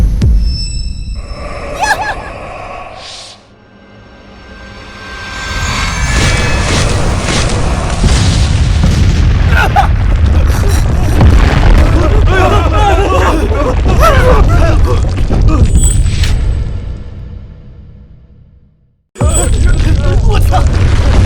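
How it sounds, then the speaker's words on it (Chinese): A mountain being blown up gives a deep, loud, sustained roaring blast with heavy rumble and debris noise, cut off abruptly before a burst of excited shouting voices. "苏总，这山真的炸了！"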